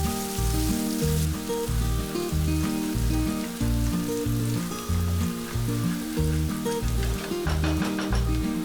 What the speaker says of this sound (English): in a hot pan, add oil. Add 1 onion chopped and fry the onion until it is nice and soft